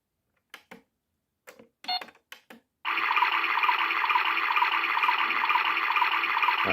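A PlayGo toy washing machine starts its drum after a few small plastic clicks and knob turns, then settles into a steady, bright whirring and rushing hum that runs unbroken to the end, close to the listener.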